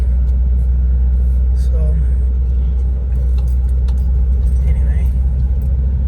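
A 2010 Ram Cummins Megacab pickup rolls over a rough, bumpy road, its deep steady engine and road rumble constant beneath rattles and jingling, while someone speaks briefly inside the cab.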